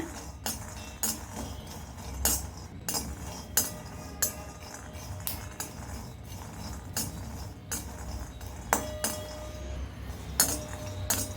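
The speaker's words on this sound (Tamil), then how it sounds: "நிலக்கடலையை வறுத்து எடுத்துக்கோங்க" Dry peanuts rattle and tick against a pan as they're roasted over medium heat and stirred, with repeated light clinks of a utensil over a steady low background.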